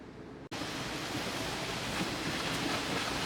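The FlowRider wave pool aboard the cruise ship Star of the Seas gives a steady, dense rush of churning water. It starts abruptly after a brief near-silence, then holds loud and even throughout with no voices.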